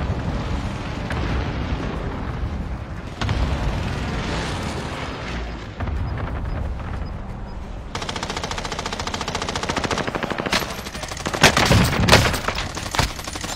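Rapid automatic gunfire and bursts of shooting in the video game Call of Duty: Warzone, loud and nearly continuous, with heavier explosive booms building toward the end.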